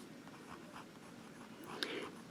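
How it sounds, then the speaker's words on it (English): Pen scratching across paper in reverse writing for calligraphy practice, a soft continuous scraping texture of close strokes with a slightly sharper stroke near the end, no talking. "Let's do some reverse writing."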